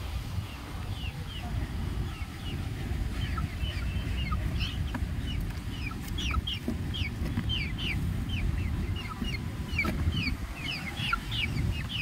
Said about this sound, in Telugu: ఈరోజు మీకు కోళ్ళు చూపిస్తాను